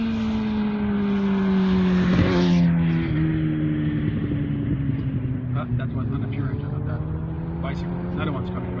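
An Airbus A220 (Bombardier CSeries) airliner passes at the factory with a steady, loud engine roar and slowly falling tones, while voices talk over it.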